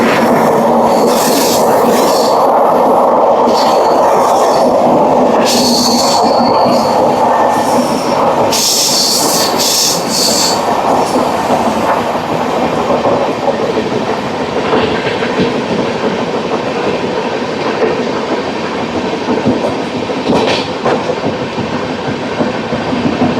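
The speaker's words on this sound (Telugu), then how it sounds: "వచ్చేస్తుంది రాయలసీమ." The Rayalaseema Express passes on the opposite track near Secunderabad, a loud, sustained rush of rolling wagons with rhythmic wheel clatter and bright squealing bursts early on, heard close from another moving train.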